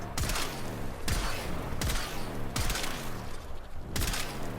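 Komorex sniper rifle in Warframe firing four loud, evenly spaced shots, each a hard crack with a booming tail, following one another at roughly one-second intervals.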